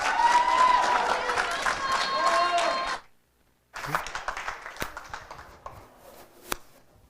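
An audience applauds a speaker at a talk event with dense, continuous clapping for about three seconds. It cuts to silence, and then a single voice begins talking.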